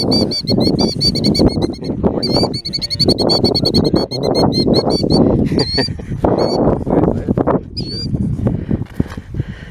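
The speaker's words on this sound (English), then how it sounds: "There's another killdeer just landed behind us." Killdeer give repeated high, sharp calls in a field while searching for artifacts on a hot summer day, the bird cries ringing out over close, continuous wind and rustling.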